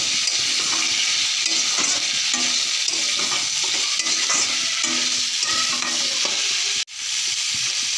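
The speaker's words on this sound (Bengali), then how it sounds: "হলুদ, ভালো করে নাড়াচাড়া করে নিব।" Drumstick and potato pieces tossed with turmeric in a pan sizzle loudly as a spoon scrapes and stirs in quick repeated strokes, close up, with a sudden brief break near the end before the frying resumes.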